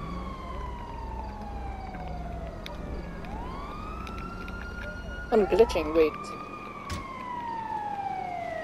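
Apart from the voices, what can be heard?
ambulance siren in video game GTA Online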